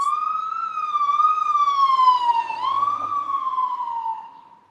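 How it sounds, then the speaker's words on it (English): An ambulance siren sounds close and loud outdoors, a smooth wailing tone that sweeps gently up and down before fading at the end. "That's the ambulance."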